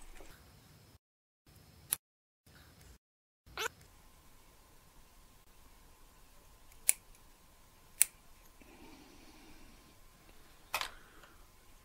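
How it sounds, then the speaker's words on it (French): Several faint, sharp snips sound in a quiet room during a Geek Vape Athena squonk kit build, spaced a few seconds apart. "Ensuite, on vient couper."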